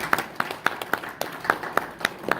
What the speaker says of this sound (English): so we applaud her because she's the chair now